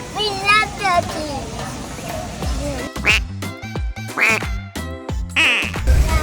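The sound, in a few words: ducks quacking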